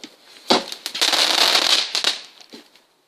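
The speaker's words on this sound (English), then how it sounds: "that was actually like a small firework" A small firework goes off outdoors: a sharp pop, then a dense burst of crackling that lasts about two seconds before a final snap and quick fade.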